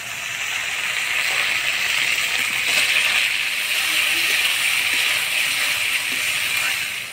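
Fried eggplant goes into spiced masala in a hot pan and sizzles, a steady bright hiss of frying with faint stirring clatter, close and constant throughout.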